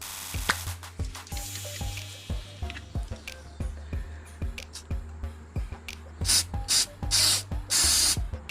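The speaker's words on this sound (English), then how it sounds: "Let's go ahead and spray down with some electronic cleaner." Electronic cleaner is sprayed onto excavator light wiring: a run of rhythmic mechanical clicks and rubbing gives way to several short, loud hissing spray bursts near the end, with no talking.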